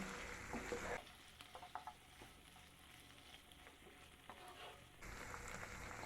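Chilli potato frying over a medium flame, giving a soft, continuous sizzle with light scraping stirs, louder at the start and end and quieter in between, with no talking.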